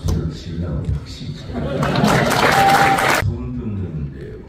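An audience at a patriotic sermon in a convention hall bursts into applause for about a second and a half, with a voice speaking before and after the clapping.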